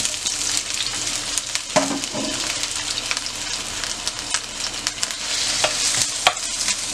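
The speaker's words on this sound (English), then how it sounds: "we're going to add our potatoes in here. Okay, this is going to be at a medium heat." Potatoes frying in cannabis-infused oil in a pan over medium heat, a steady close sizzle with occasional scraping stirs and small pops, no voices over it.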